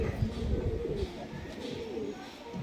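Low, soft cooing of a Malbai pigeon close by, a murmuring throaty call that rolls on continuously with faint background hiss.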